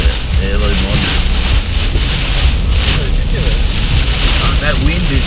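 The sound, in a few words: heavy rain blown by wind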